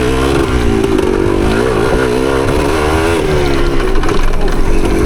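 A 1975 Yamaha DT250 two-stroke motorcycle revs steadily on a trail, its engine note rising and falling close by, loud and continuous throughout.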